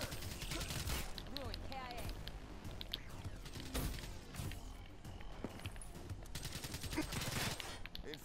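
Shotgun blasts ring out in a chaotic Black Ops multiplayer match. The booming shots are mixed into dense battle noise, music and effects, and a voice talks over the scene.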